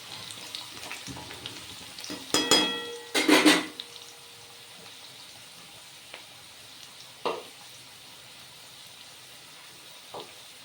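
Potatoes fry in a pan for a Bengali rohu fish curry, with a low steady sizzle broken by two louder bursts of clatter and sizzling near the start, then a few brief scrapes and knocks.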